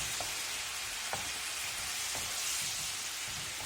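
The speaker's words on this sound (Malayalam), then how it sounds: "ഇതിലേക്ക് നമുക്ക് എടുത്തു വെച്ചിരിക്കുന്ന തേങ്ങാപ്പാൽ ചേർക്കാം. നമുക്ക് നന്നായിട്ട് മിക്സ് ചെയ്തെടുക്കാം." Coconut milk goes into a simmering mushroom masala with onions and tomatoes, giving a steady soft sizzle and bubbling hiss with a few faint clicks of stirring, close and alone.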